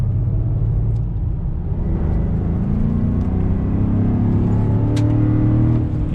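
A supercharged V8 Land Rover Defender 90 being driven, heard from inside as a loud, steady low engine rumble with rising tonal whine and road roar throughout, and no talk over it.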